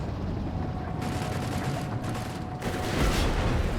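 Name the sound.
Sturmgewehr assault rifle fire in video game Company of Heroes 3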